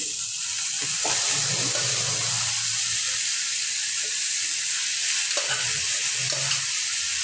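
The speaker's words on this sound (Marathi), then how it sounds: "हो ती भाजी जास्त हलवायची" Sprouted horse gram is stir-fried in a pan, giving a steady loud sizzle with intermittent scraping strokes of a spoon against the pan, close up and without talk.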